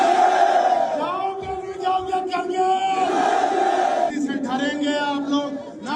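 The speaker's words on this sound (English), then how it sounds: "You can see on your screens in large crowds that had gathered for the demonstrations." A large crowd of protesters at a demonstration in Gilgit-Baltistan chanting loudly in unison, with raised voices and rhythmic shouted slogans filling the scene continuously.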